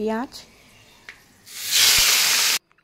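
Onions hitting hot oil already seasoned with dried chilli, bay leaf, cumin and whole garam masala, bursting into a loud steady sizzle that runs about a second before cutting off abruptly.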